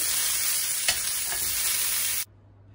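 Vegetables fry in a little oil with a bright, steady close sizzle and a faint stir, cutting off abruptly near the end.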